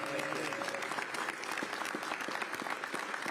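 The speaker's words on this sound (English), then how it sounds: "We can clap for him" An audience at a New York City infrastructure and jobs announcement gives a round of applause for the building trades council president, a sustained crowd clapping heard at a moderate distance with faint voices underneath.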